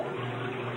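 A short burst of steady running water, splashing evenly for under a second, washing grass stains off a baseball uniform.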